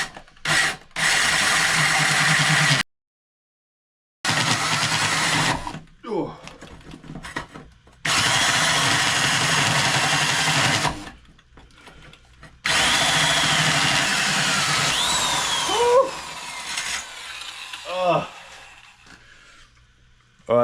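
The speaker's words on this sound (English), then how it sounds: "This drill is a beast, but it only goes full power." A powerful full-speed drill bites into metal during a bike build, in loud grinding bursts broken by pauses and clattering handling sounds, with some squeaky scraping toward the end.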